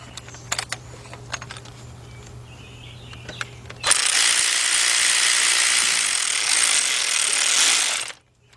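A ratchet turns an inverted Torx socket through a 3/8 to 1/4 inch reducer on a BMW alternator bracket. Sparse light clicks come first, then a loud, steady mechanical whirring runs for several seconds before stopping abruptly.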